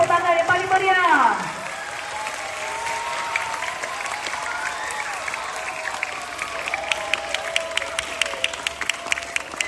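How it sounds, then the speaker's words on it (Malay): Pupils at a school assembly receive a burst of clapping that rises and keeps going as steady applause, with a crowd murmuring underneath and a voice speaking briefly at the start. "Sekali lagi berikan tepukan yang gemuruh kepada murid"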